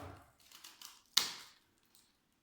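A single sharp, crisp snip rings out close by as a completely dry, woody Vanda orchid stem damaged by Fusarium is cut through, with faint rustling just before and near silence after.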